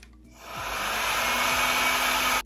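A Llano hair dryer blows a steady, close, loud whoosh that builds up within the first half second and then holds even until it cuts off near the end.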